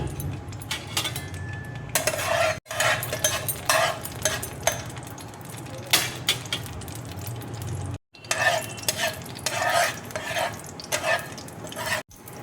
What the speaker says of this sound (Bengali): ফ্রাই প্যানে দেখো অল্প করে তেল দিয়ে দিয়েছি। এবার দেখো রসুন আমি দিয়ে দিচ্ছি।